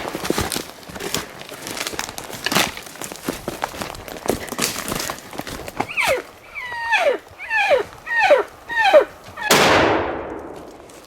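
A single sharp, loud rifle shot ringing out with a decaying echo during a Wyoming elk hunt in timber. It follows rustling movement and a run of high, squealing animal calls.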